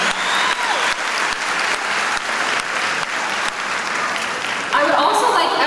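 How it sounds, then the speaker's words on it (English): Audience applause at a high school graduation in Richmond, Virginia, honoring a graduate's parents: steady, dense clapping from a large crowd, loud and continuous, swelling slightly near the end. "please, give a round of applause to them"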